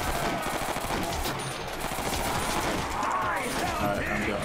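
Rapid sustained automatic gunfire in a Call of Duty custom zombies arcade map, dense continuous bursts loud and close, with a player briefly talking over it.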